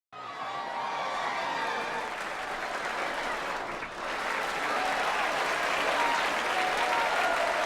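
A large crowd roars and claps in a dense, continuous wash of sound for a desert film scene, swelling slightly louder after a brief dip midway.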